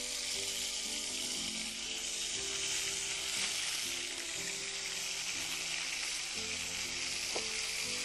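Garlic-ginger paste and ground onion fry in hot oil, giving a steady, close hissing sizzle with faint stirring scrapes throughout.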